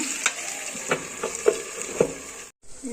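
Marinated local chicken frying in a pan, an even sizzle punctuated by several spaced spoon clanks against the pan, ending in a sudden brief cut to silence.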